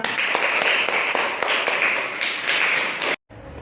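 A classroom group claps in a quick rhythmic pattern, a burst of steady applause from many hands that cuts off sharply.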